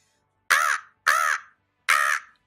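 A human voice imitates a crow, giving three harsh, nasal caws spaced about half a second apart, loud and close against silence.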